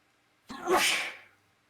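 A single loud sneeze, sharp and close, with a quick intake burst followed by a breathy spray that fades out.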